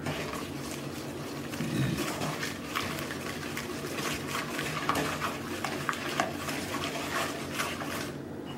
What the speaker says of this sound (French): On dilue un peu avec le lait. On brasse un peu.